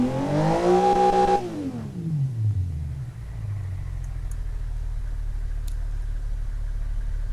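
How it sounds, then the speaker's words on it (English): A small engine in the Automation car game revs high and loud, then drops in pitch and settles into a steady low idle that hums on alone. "Pretty crazy little engine, that's what I say."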